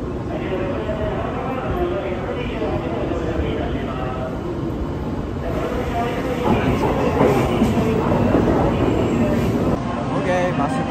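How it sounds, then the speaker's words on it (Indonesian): A high-speed bullet train pulls into a station platform with a steady, loud rolling rumble and rail noise that swells slightly, while people talk nearby. "datang kereta cepatnya"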